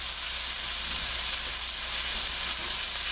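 Onions sizzle steadily in a hot pan with za'atar and sumac, a dense, even, hissing crackle close up with no talking over it.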